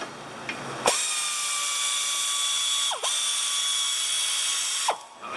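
An air ratchet runs on bolts during wheel bearing replacement on a 2003 Nissan Altima, a loud sustained pneumatic whine broken by brief pauses and pitch dips as the tool stops and restarts, heard alone and close.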